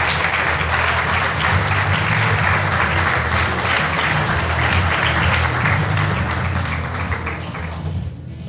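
An awards ceremony audience bursts into loud, dense applause for the runner-up at a national science fair final, sustained clapping that fades slightly at the end.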